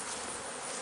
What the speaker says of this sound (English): the bees are working pretty hard